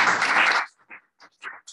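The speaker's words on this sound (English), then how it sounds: "Why you applaud?" Audience applause as a lecture on mathematical information theory wraps up: a dense burst of clapping for about three-quarters of a second that cuts off abruptly, then a few faint, scattered sounds follow.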